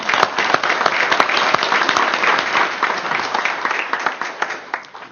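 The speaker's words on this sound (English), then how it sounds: "We'll give him a round of applause." Audience at a tribal council meeting breaks into steady, dense applause, a close and continuous wash of many hands clapping that holds for several seconds before tapering slightly at the end.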